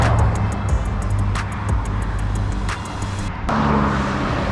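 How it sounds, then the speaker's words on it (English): Truck rolling past on a forest-lined highway in rural Washington, a loud, steady roadside rush of engine and tire noise with a sharp shift near the end as it goes by, heard up close from the shoulder. "Truck."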